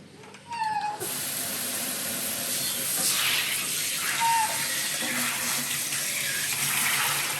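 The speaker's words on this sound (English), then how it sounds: "I always will wet down the body first. That just gets them used to the water." Tap water runs steadily while a senior dog is washed, a loud, continuous hiss that follows a brief softer start, with a faint meow-like squeak near the beginning.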